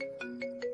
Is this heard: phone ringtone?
yes